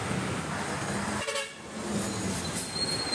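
A single loud horn blast from a large truck, close by, over steady road rumble.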